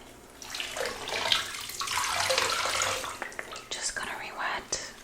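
Water runs from a tap in bursts while a leg is re-wetted before shaving, splashing and trickling up close, with soft whispering over it.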